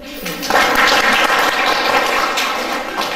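A church congregation applauds at a silver jubilee Mass marking a priest's 25th ordination anniversary, a dense, sustained wash of clapping that starts loud after half a second and fades gradually.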